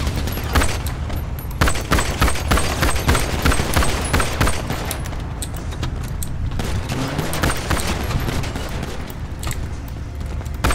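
Dense, continuous gunfire from a video game, with rapid shots and bursts running throughout, loud and close, with occasional voices mixed in.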